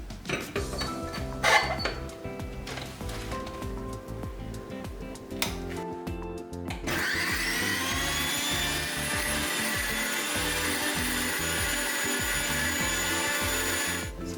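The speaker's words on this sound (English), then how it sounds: "So now we're just going to grind this." An electric grinder blending herbs for homemade hair oil, starting with irregular clattering bursts, then steadying into a loud, continuous high whine from about seven seconds onward.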